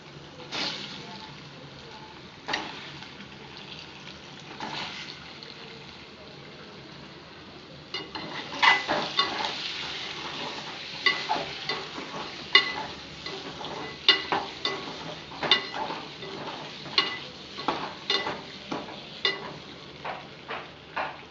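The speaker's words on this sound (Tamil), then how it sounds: "நல்லா ஃப்ரை ஆகட்டும்." An egg fries in oil seasoned with turmeric and chili powder for a Dhaba-style egg gravy, a steady low sizzle joined partway through by repeated scraping and stirring strokes, close by with no one talking.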